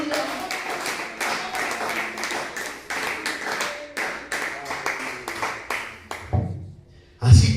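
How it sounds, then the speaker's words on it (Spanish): A church congregation at a Spanish-language service claps together in a steady, rhythmic beat, loud and close, then stops abruptly near the end before a brief, louder burst of sound. "Aplauda fuerte el nombre de Jesús"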